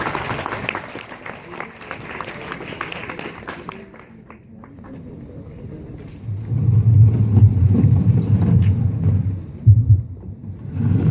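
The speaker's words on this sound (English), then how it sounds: "Let us give her a quick clap." An audience at a school function in Doha gives a short round of clapping that fades out after a few seconds, leaving a low, rumbling hum in the hall.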